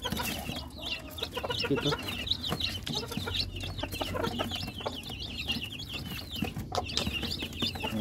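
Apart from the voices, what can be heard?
Rhode Island Red chicks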